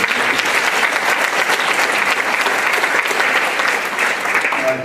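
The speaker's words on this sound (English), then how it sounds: "I think another round of applause to the TSSC chapter." Audience applause for a school chapter at a parents' and caregivers' workshop, a steady dense wash of many hands clapping at even loudness throughout with no speech over it.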